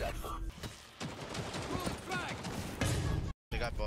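Rapid bursts of gunfire from a first-person video game, dense and loud, crackling almost constantly over excited talk from players, with a brief dropout near the end.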